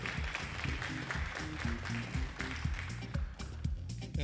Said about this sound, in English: Let's give a big round of applause to everyone.